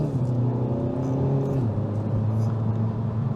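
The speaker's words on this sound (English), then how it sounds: "I can hear the wheels spin" A 2022 Kia Forte GT accelerates hard with its wheels spinning, the engine droning in a steady rising rumble that shifts pitch partway through, close and loud with no talking.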